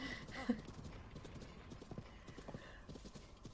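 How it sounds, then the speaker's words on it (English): Rapid clip-clop of galloping hooves with a brief whinny near the start, quick even rhythm, fairly close, from a horse in the video game The Legend of Zelda: Breath of the Wild. "the horse just gets going too fast and then I can't turn"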